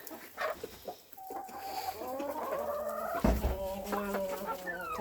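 Several bantam chickens cluck and warble close by, overlapping calls rising and falling, with a brief thump partway through.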